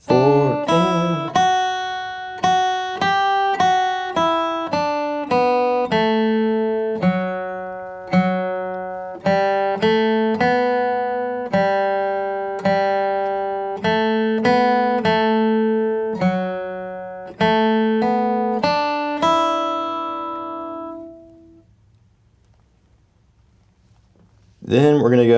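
Acoustic guitar flatpicked slowly through a line of the fiddle tune St. Anne's Reel, steady plucked single notes with clear harmonics ringing alone, ending on a held note that fades before a brief pause.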